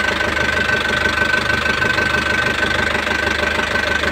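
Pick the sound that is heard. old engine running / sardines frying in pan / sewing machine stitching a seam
old engine running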